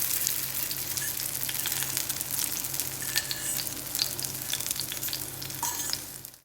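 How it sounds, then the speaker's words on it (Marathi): Flipped veg peas cutlets shallow-fry on their second side in a pan, a steady close crackling sizzle with scattered pops that fades out abruptly at the end, no voices. "हे आपण पलटून घेऊयात आणि दुसऱ्या बाजूने पण छान खरपूस भाजून घेऊयात."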